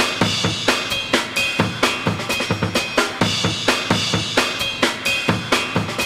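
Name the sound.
drum break with first beat and a half duplicated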